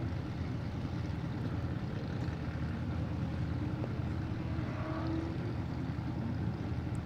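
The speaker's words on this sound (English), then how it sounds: "I still hear an engine, so I think he's okay." Off-road race vehicle at King of the Hammers qualifying in 2019, its engine droning steadily and fairly distant under broad rumbling noise, with no talk.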